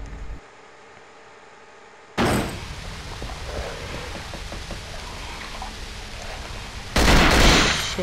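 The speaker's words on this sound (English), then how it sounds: "I shot him in the head." Gunfire in the horror game Cold Fear: an abrupt loud blast opening into sustained noisy rumble and clatter, then a second loud burst near the end.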